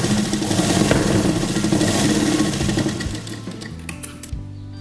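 A sewing machine runs steadily while stitching cloth for puff sleeves, with a fast mechanical whir that slows and stutters to a stop near the end, close and fairly loud, with no voices.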